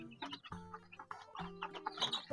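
Two-week-old KUB kampung chicks in a brooder coop peep and cluck softly, their short, high calls overlapping in quick, irregular bursts close by at low volume.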